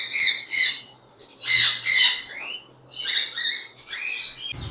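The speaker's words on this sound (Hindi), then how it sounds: "येलो गोल्डन मेंटल का पेयर है जो कि डीएनए के साथ है। यहाँ पे हमारे पास फीमेल है और उसके साथ हमारे पास मेल पड़ा हुआ है" A pair of yellow golden mantle rosella parrots, male and female, give loud close squawks and chattering calls in several bursts separated by short pauses.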